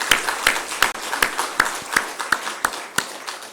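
Applause from a church congregation welcoming visitors during a Sunday worship service, a crowd of hands clapping steadily with sharp rhythmic peaks throughout, close and fairly loud.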